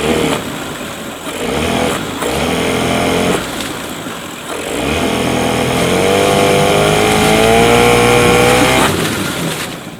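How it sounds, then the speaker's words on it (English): A rough-running 8hp Mercury outboard motor with a faulty trigger, giving a steady, loud engine drone through the whole stretch that wavers and surges, with uneven pitch changes partway through. "got it back on the motor, only to find the motor doing this"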